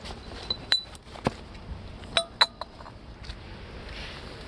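Glass bottles clinking as they are dropped one by one into a household recycling bin, several sharp separate clinks spread irregularly over a few seconds against quiet background.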